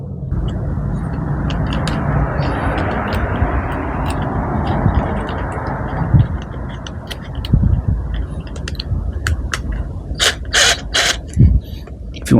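A cordless drill from a 177-piece drill and tool set runs steadily for about six seconds, then stops and restarts in shorter whirring bursts with clicks as a screw is driven; brief speech sounds may occur.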